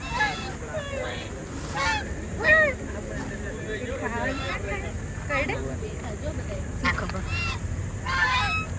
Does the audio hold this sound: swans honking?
yes